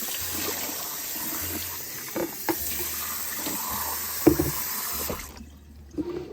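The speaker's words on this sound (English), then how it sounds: "Scrub the sides. Rinsing it out." Running tap water splashes steadily while something is rinsed out in a sink, with occasional louder splashes and clatters before the flow cuts off near the end.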